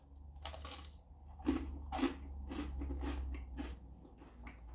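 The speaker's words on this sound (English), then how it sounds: "Hear the crunch." Crunchy crust of a Tesco deep pan meat feast pizza bitten and chewed close up, a series of quiet crisp crunches in an irregular chewing rhythm over a low steady hum.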